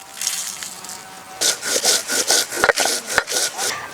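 A stone grinding slab crushes green and dried chillies with cumin seeds, giving close rhythmic scraping strokes with gritty rubbing and a few sharp knocks, with no talking.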